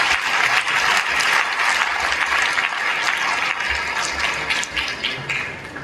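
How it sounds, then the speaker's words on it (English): Dense, loud audience applause in a hall at a scholarship foundation gala, many hands clapping continuously and thinning slightly toward the end. "please give another round of applause to our 2019 Scholarship Awards"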